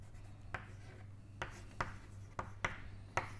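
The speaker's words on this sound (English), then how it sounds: "So, let me write" Chalk or a marker writing a glucose structure on a board in a lecture setting, about six short, faint scratching strokes spaced irregularly over a low steady hum, with no talking.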